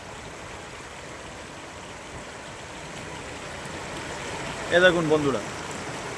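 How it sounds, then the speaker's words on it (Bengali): Clear, fast-flowing stream water in Bijanbari near Darjeeling, a steady, moderate rushing wash throughout, with someone speaking briefly near the end. "একদম সাই সাই করে জল বয়ে যাচ্ছে, পরিষ্কার একদম জল"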